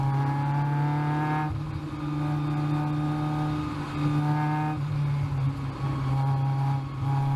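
Caterham race cars lapping a track, engines howling at high revs with pitch dropping on each gear change and climbing again, several shifts in a loud, close in-car drone.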